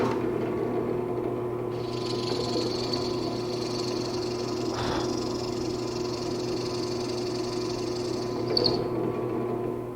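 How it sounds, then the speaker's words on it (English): A drill press whines steadily as it bores wooden plugs, a continuous high-pitched hum with a low motor drone underneath, close up. "Now I'll go ahead and drill a series of plugs that are at least 1/8 inch thick."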